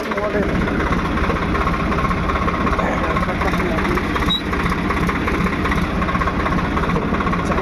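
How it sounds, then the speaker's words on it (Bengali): A router running steadily in third gear at low speed gives a continuous loud mechanical drone with a rapid, even pulsing rumble that barely changes throughout. "আমি গিয়ার লাগিয়ে নিচ্ছি তিন নাম্বার লো তিন নাম্বার লো তারপর চালিয়ে নেবো রুটারটা"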